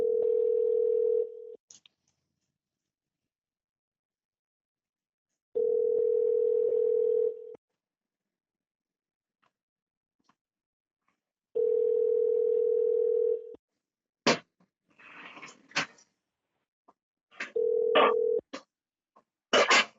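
Telephone tone after a disconnected call, three steady beeps about two seconds long with long silent gaps between them, followed by brief dialing clicks and tones.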